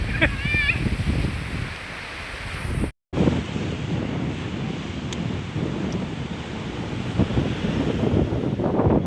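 Sea waves washing onto a beach under a hot sun, a steady roar of surf mixed with gusty wind buffeting the microphone, with voices faintly audible and a brief dropout partway through.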